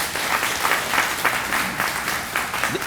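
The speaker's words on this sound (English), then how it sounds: "we really need to give you a round of applause" Steady applause from a crowd at a ribbon cutting ceremony, loud and sustained throughout with no break.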